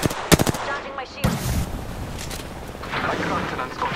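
Video game gunfire: a quick run of rapid sharp shots near the start, a heavier blast, then scattered distant firing under game voices and background noise.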